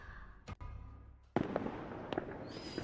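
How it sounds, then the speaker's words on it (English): Fireworks bursting in the night sky within the video game Tears of Themis: a sharp crackle, then a big loud boom that fizzles out into a long crackling tail, with a few smaller pops following. "a burst of fireworks explode in the night sky"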